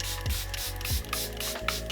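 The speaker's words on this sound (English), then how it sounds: "I'm going to use the Airbrush Flawless setting spray." Airbrush Flawless setting spray is misted onto a made-up face in three quick, close spritzes about two-thirds of a second apart, each a brief soft hiss with a faint mechanical click.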